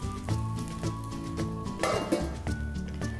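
Akki rice roti cooking on a lidded pan with oil, with clinks and scrapes of metal cookware over a soft sizzle, close and fairly loud, with no voices.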